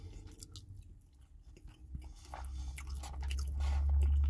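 Fried yellow plantains being chewed close to the mic in a vegan mukbang, soft wet bites and squishy mastication that get heavier and more muffled toward the end.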